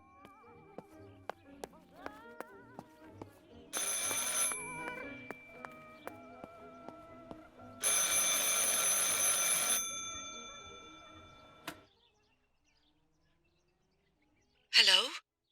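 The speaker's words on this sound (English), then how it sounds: "I should pick up the phone but remain silent" An old telephone in the game Martha Is Dead rings in two long, bright electric bursts with a pause between, over quiet ticking and ambient sounds, followed by a sharp short blip near the end.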